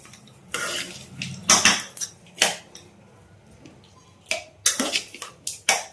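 A spoon scrapes and clinks against a pot while mango pickle rice is mixed, giving scattered sharp metallic knocks in irregular clusters with quiet gaps between them.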